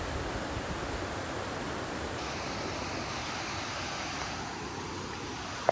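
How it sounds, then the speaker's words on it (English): Small waterfall beside a hiking trail, a steady broadband rush of falling water that stays even and continuous, with a faint click near the end and no talking. "Nice little waterfall or something back there."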